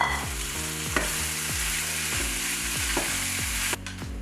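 Pork belly stir-fries in a hot pan with scallion, ginger and star anise: a steady sizzle broken by repeated rhythmic scraping and tossing strokes, close and alone with no talk.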